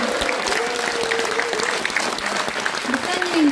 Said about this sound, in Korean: 목사님께 다시 한번 큰 박수 보내주셨으면 좋겠고요